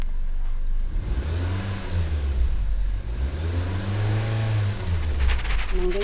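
A car engine revs in a narrow alley, rising and falling in repeated swells close by, loud and continuous throughout.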